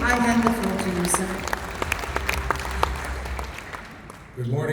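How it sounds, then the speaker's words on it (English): Audience at a fintech summit panel session gives a sustained round of clapping that fades out after a few seconds, with an amplified voice briefly over it. "Let's give a round of applause"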